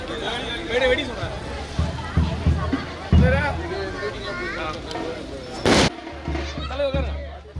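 Firecrackers bursting at a temple consecration festival (maha kumbabishekam) for a goddess, with one loud, sharp broadband blast standing out amid a busy, crowded background of talk and festival noise.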